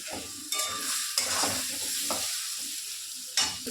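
A spice paste of turmeric, salt and chopped tomato sautés in a pan with a soft sizzle. Close, repeated scraping and stirring strokes sound over it, with a few sharper clatters.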